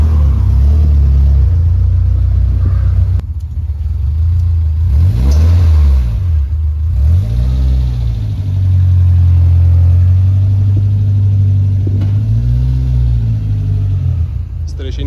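A supercharged Toyota 1400 bakkie with a swapped-in 4AGZE engine revs hard on a dyno, its deep engine note rising and falling in repeated sweeping pulls over a steady rumble, loud and close, with voices talking at times.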